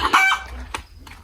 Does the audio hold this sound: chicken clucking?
yes